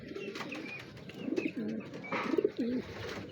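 Racing pigeons coo in repeated soft, throaty bursts close by, several overlapping calls rising and falling over a few seconds with no speech.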